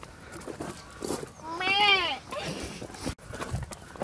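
A goat bleats once in a wavering, drawn-out cry amid outdoor chatter, with people talking around it before and after.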